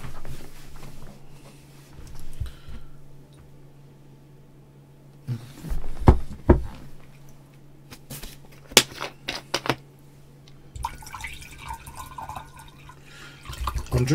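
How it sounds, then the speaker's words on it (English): Bottled still natural mineral water from a Tesco range is poured and drunk at a desk during online chess, with scattered clinks, glugs and swallowing sounds over a low steady hum. "I'm drinking, for those interested, Tesco's Ashback. Apparently it's bottled at source. Still natural mineral water, yes."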